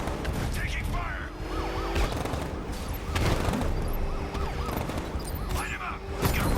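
Sustained gunfire rattles through a vehicle chase in Batman: Arkham Knight, with wailing police sirens and engine noise, and voices speaking over the din.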